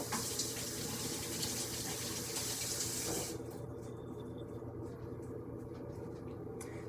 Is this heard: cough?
no